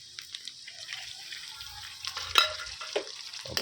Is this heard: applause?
no